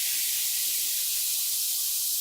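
White noise plays at full peak level in a sidechain compressor ducking demonstration: a flat, bright, unbroken hiss, loud and steady from start to finish.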